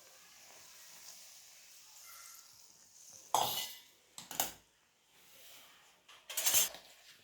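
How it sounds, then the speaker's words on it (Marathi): Hot oil poured over chakli flour in a kitchen bowl, giving a few short, loud bursts of sizzling hiss, three distinct splashes with quieter gaps between them, no talking. "हे चार चार चमचे तेल घेतले गरम करून आता मी या पिठात घालून घेते"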